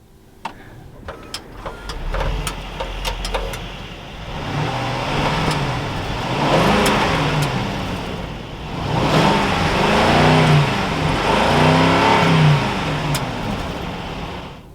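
A 2022 Mercedes-Benz S580 4Matic sedan starting up, heard from inside the cabin: a few clicks and a starter whir, then the engine catches and settles into a steady idle with repeated soft swells.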